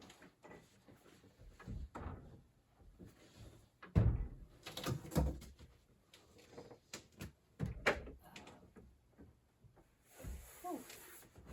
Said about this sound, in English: now it's the moment of truth to see if I got it to the right size for the refrigerator to slide back in